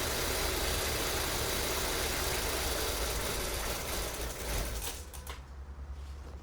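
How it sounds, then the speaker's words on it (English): A car engine runs steadily with a dense, rattling hum, then the sound thins and becomes uneven as it dies out with the fuel pump relay removed. "remove the fuel pump relay and start the engine"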